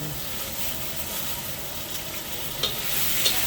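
Dried fish (daing) fries in a pan with a soft, continuous sizzle and crackle, a few sharper pops and stirring scrapes near the end, with no talking.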